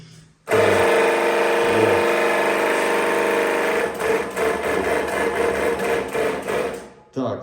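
An electric oil press loaded with nuts starts up abruptly and runs with a loud, dense mechanical clatter and hum, its level wavering unevenly, then stops near the end.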